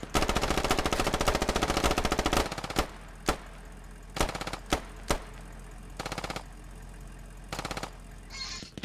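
A Humvee-mounted machine gun fired from the gunner seat in the video game Squad starts with a loud, sustained burst of rapid fire for about two seconds, then breaks into short, separated bursts and single shots.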